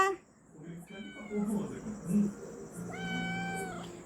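A hungry cat meows repeatedly up close, its drawn-out cries rising and falling, while someone talks over and between them.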